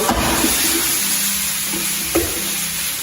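Rice sautéing in a paella pan for cauliflower paella, giving a steady close sizzle and crackle with occasional scrapes and stirs, no talking.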